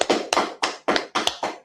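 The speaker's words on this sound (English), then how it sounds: "Clap it up." Six sharp hand claps in an even, quick rhythm, close and loud, with short silences between each crack.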